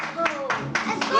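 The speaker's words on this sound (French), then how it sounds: "On l'applaudit très fort." Audience clapping in a few loud bursts during a children's party magic show, with speech over the applause.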